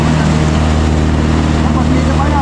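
Steady low drone of a fishing boat's engine running out at sea, a continuous loud hum with harmonic tones, while people talk over it.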